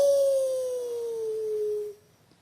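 A human voice mimics a younger wolf howling back from across a valley, a single sustained howl that glides steadily downward for about two seconds, softer than before, then stops.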